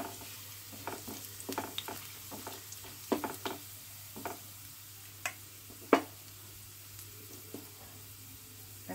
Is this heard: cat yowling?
no